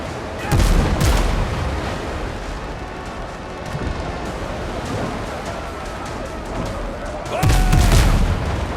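Ship cannons fire in the Windrose video game, with heavy booms at the start and again near the end. Between them runs a dense, rumbling battle din, loud and close.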